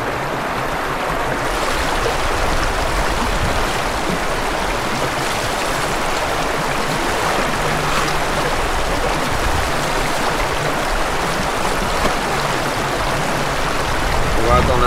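Water pours steadily from a tap into a hand-built stream channel, a continuous close rushing and gurgling that holds even throughout, with no voices.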